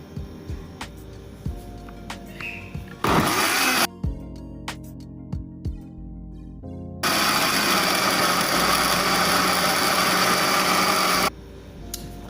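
A kitchen blender whirs as it purees green grass jelly (cincau) leaves with water. Short pulses and clunks lead into two sustained high motor roars, loud and close, separated by a quieter stretch.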